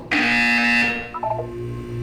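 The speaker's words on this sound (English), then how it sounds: "When you hear the buzzer, look down at the floor." An electronic buzzer in the video game Portal 2 sounds loud and steady for about a second, then fades into a softer electronic tone with a short warbling blip.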